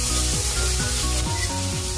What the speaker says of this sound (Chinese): 干椒一起爆香